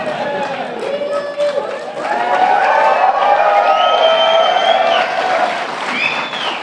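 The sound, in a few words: audience applause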